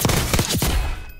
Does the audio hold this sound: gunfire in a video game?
yes